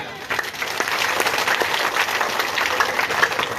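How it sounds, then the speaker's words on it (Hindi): Crowd applause at a political rally in Rainee, Alwar: steady, dense clapping from a large gathering, loud and continuous throughout with no pauses. "दोनों हाथ ऊपर करके सभी कार्यकर्ताओं के लिए जोरदार तालियां।"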